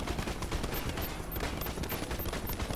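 Dense rapid gunfire from the video game Narco Terror rattles continuously, loud bursts blending into a steady barrage with no pauses.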